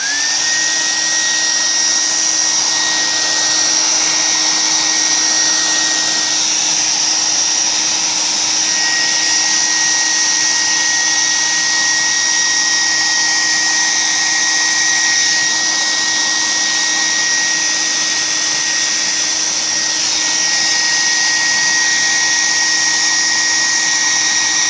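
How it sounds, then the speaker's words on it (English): A hair dryer blows steadily on acrylic crochet laid flat on a table, a loud continuous whooshing roar with a constant motor whine that holds even for the whole stretch, no talking over it. "so that it doesn't blow across the table when I turn the dryer on it"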